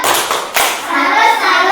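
Schoolchildren in an Indonesian classroom clap together in a salute chant, a brief burst of hand claps and thumps mixed with young voices chanting nearby.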